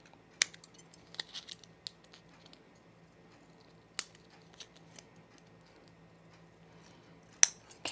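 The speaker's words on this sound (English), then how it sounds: "I'm going to use these scissors, not my" Quiet snips of non-sewing scissors cutting fabric binding, a handful of sharp isolated clicks spaced irregularly over a near-silent background.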